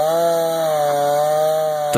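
A chainsaw cuts down a tree left burning inside its trunk after a lightning storm, its engine holding a loud, steady, high buzzing whine with no pauses.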